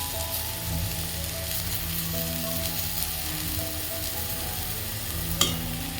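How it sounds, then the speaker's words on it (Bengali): Potatoes and green beans stir-fry in a pan with a steady, dense sizzle and crackle that holds throughout, close up, with one sharp clink near the end. "এই যে আলু বরবটি ভাজাটা হয়ে গেছে প্রায়, একটু তো টাইম লাগে এটা ভাজতে"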